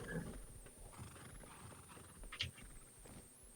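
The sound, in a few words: horses in the video game Rust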